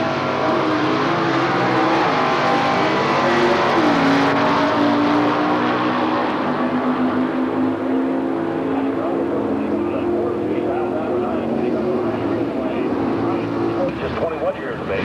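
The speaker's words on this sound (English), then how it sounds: "That's a Super Stock D car." Super Stock drag racing engines at a 2003 NHRA drag strip in Gainesville, including a 1969 Camaro Super Stock automatic, roar loud and continuous for the whole stretch, a steady dense rumble with no talk over it.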